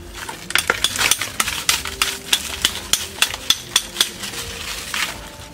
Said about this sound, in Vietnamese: đang khui cái hộp sữa này